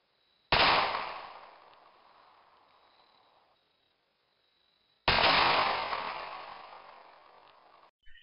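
Two loud, sharp rifle shots ring out several seconds apart in a JFK headshot demonstration, each with a long decaying echo tail, and no one speaking.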